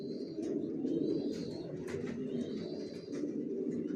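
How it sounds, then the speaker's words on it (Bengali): Racing pigeons in a loft coo steadily in a low, continuous murmur, with occasional higher chirps and wing or movement noises close by. "সব লংয়ের কবুতর পালি আমার লফটে, জনসনের একই লেনের কবুতর পালতেছি 15 বছর যাবত"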